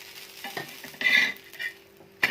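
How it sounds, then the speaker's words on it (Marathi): Oil sizzling and spattering around a potato dosa cooking in a pan at home, with short crackling bursts and a louder final spit, alongside light scraping of a utensil; no voices. "थोडंसं मी अजून तेल थोडं उकळून टाकते"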